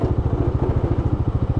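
A go-kart engine idles after a carburetor swap, a steady low, throbbing putter with an even pulsing rhythm, close and fairly loud with no one talking.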